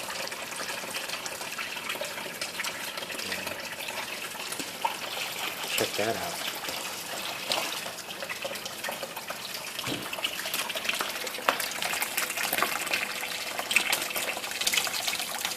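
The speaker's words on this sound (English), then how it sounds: "Bell siphon's working." Water gushes and trickles steadily as an aquaponics bell siphon drains an indoor turtle pond biofilter, a continuous close splashing flow with a voice talking over it.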